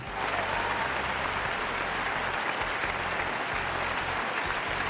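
Continuous applause from a group of people, with dense, even clapping sustained at a steady level throughout.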